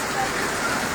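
Heavy rain pours down in Tando Qaiser, Hyderabad, Sindh, a loud, dense, unbroken hiss of drops filling the whole second.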